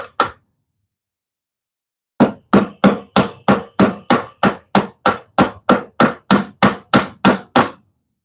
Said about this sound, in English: Nice sharp chisel, doing nice sharp chisel business.